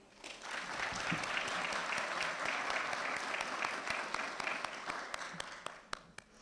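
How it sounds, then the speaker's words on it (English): An audience at a school awards ceremony gives the nominees' family members a sustained round of applause. The dense clapping swells quickly, holds for several seconds and then thins out, with a few scattered claps near the end. "Let's give a big round of applause to all of you."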